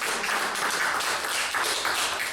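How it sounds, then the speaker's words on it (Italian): An audience applauds a volunteer named Naida at a young illusionist's magic show in Jesolo: steady, dense clapping from many hands, fairly soft and even, with no talking over it. "Un applauso forte a Naida,"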